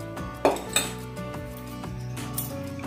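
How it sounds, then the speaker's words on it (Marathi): Metal spoon clinks twice against a kadhai as ghee is spooned in, two sharp close taps followed by quieter scraping and utensil contact over a steady background hum, no talk. "पुन्हा मी या कढईमध्ये 2 ते 3 चमचे तूप घालते"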